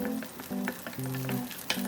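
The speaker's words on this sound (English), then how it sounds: "Add sliced garlic and stir fry." Sliced garlic stir-frying in oil in a pan gives a steady, close sizzle with faint scraping stirs, with background music and no talk.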